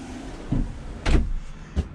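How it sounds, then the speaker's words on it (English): Full-extension storage drawers under the beds of a Keystone Outback 301UBH two-bedroom travel trailer slide open and shut, giving three short rolling thumps and knocks over a quiet room. "And they're full extension drawers"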